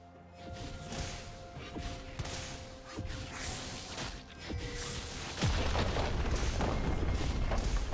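A turret being destroyed in League of Legends during a Cassiopeia versus Malphite top-lane match: booming, crashing game effects with whooshes, ending in a sustained loud rumble.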